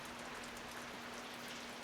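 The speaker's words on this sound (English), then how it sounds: "It's raining pretty heavily right now." Heavy rain pours steadily during an ice storm at an off-grid cabin, a dense unbroken hiss of drops with a faint low hum underneath and nothing else.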